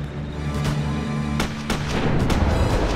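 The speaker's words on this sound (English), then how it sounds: "I initiated another artillery strike to keep those Ruskies down" Artillery strike in the WWII strategy game Theatre of War: a steady heavy rumble with repeated sharp booms and cracks at irregular intervals, loud and continuous with no talk.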